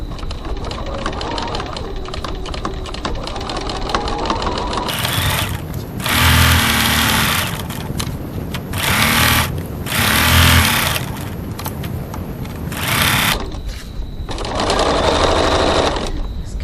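A domestic sewing machine stitches a seam on a crossbody bag, running in loud, close whirring bursts that start and stop, with softer handling noise between runs.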